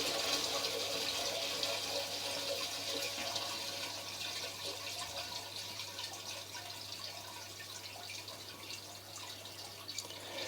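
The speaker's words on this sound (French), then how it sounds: "Donc la chasse a été tirée tout de suite et nous voyons l'eau" Toilet flush water flowing through a drain pipe, a steady faint hiss and trickle of running water with a low constant hum beneath, fading slightly over time.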